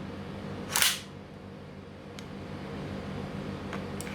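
A single sharp metallic click-clack of a Cybergun Desert Eagle green gas airsoft pistol magazine seating, close and crisp, followed by a couple of faint small clicks in a quiet room.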